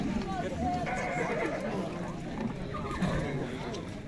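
A horse whinnies at a busy horse market near Sokuluk, standing out briefly over a constant din of crowd voices and hoof clatter.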